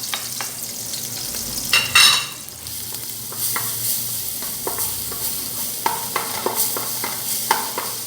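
Crushed garlic sizzling and frying in a spoonful of cooking oil while being stirred, a steady close crackle with scraping stir sounds and brief louder bursts.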